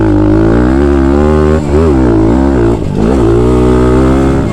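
Thumpstar TSX140 pit bike engine held at wide open throttle on a track, a loud, close, buzzing single-cylinder howl with two brief dips as the rider shifts or eases off.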